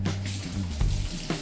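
Halved Brussels sprouts are rinsed under a running kitchen tap, giving a brief, steady splash of water close by with a few small clunks.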